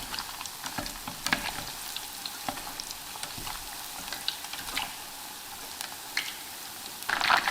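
Chicken pieces for salt-roasted chicken deep-fry in hot oil with a constant crackling sizzle, broken by occasional clicks of stirring and a brief louder burst near the end.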